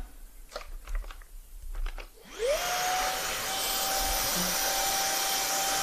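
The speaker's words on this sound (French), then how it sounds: "J'ai l'impression d'aspirer les toiles d'araignée là." A vacuum cleaner sucks dust and cobwebs from inside a desktop PC near the graphics card. Light handling clicks come first, then the motor whines up and settles into a loud, steady roar with rushing airflow.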